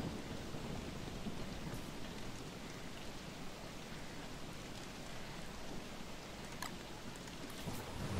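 Rain pours steadily with thunder rumbling beneath it in the video game Don't Starve, a dense, continuous storm wash with a few sharper drop hits.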